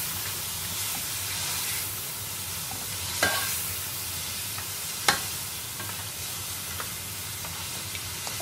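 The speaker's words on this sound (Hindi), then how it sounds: "इसमें दो टीस्पून लहसुन अदरक का पेस्ट, और इसे अच्छे से भून लेंगे इसके साथ ही गोश्त को" Mutton fries with ginger-garlic paste in a pan for a mutton qorma, producing a steady, bright sizzle and hiss with a few sharp stirring knocks.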